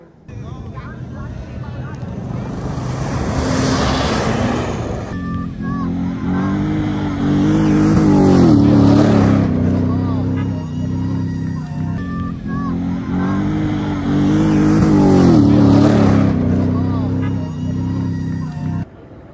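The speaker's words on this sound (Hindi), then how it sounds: "ये देखिए जी, ये गाड़ी गई।" Rally jeeps roar past one after another at the Cholistan Desert Jeep Rally in Pakistan, engines swelling loud and fading in repeated waves over sustained crowd and wind noise, with someone talking throughout.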